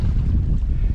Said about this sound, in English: it's a windy day, as y'all can tell